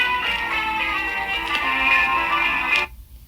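A phone song from a movie plays as a steady tonal melody heard through a telephone line, then cuts off abruptly just before the end.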